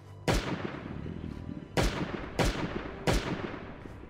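Four sharp, loud gunshots from a firearm in the survival video game Last Day On Earth, fired singly at uneven intervals with the first shot standing apart from the three that follow closely, no talking.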